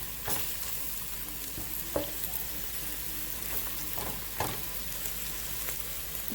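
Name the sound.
garlic browning in a frying pan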